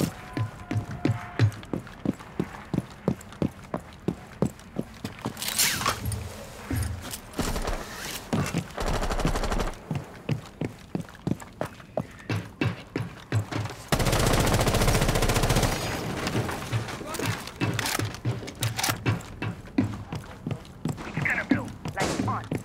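Rapid gunfire in Rainbow Six Siege, a long run of sharp shots at a steady, fast rhythm broken by short pauses and a few denser bursts, close and loud throughout.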